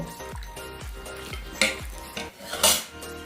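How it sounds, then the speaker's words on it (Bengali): A hand whisk beats milky batter for kheer patisapta in a bowl, giving rapid, rhythmic clinking strokes against the sides with a few sharper knocks near the end. "এবার একটি হ্যান্ড উইক্সের সাহায্যে মিশিয়ে নেব"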